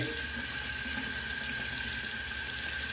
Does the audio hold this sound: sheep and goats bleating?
no